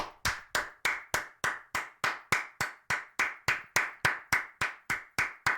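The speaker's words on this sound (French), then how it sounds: "j'aimerais encore un applaudissement pour Serra, Kazu, Anke" A single person claps in a slow, even rhythm, about three claps per second, each sharp clap close and distinct with no crowd around it.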